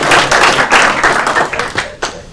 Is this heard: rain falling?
no